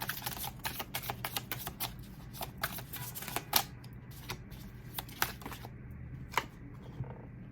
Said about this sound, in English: I'm going to pull one more card of clarifier.